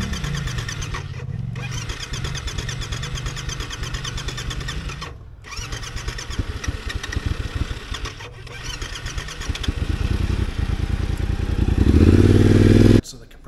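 A Yamaha T7 motorcycle engine with low compression is cranked repeatedly in hard-starting attempts, the churning broken by short pauses before it catches and revs loud near the end, close by.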